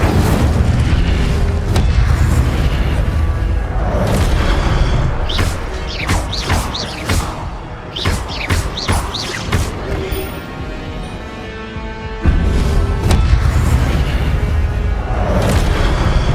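Incendio fire spells cast in the video game Hogwarts Legacy, with loud booming blasts and crackling bursts repeating in quick succession over dense game sound.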